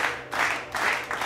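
An audition crowd applauds and cheers in bursts, the clapping swelling and dipping several times over a little more than a second, fairly close and dense.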